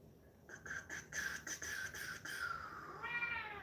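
A pet cat meows repeatedly in a quiet room, a run of short rising cries followed by a longer drawn-out meow, fairly faint and close with no talking.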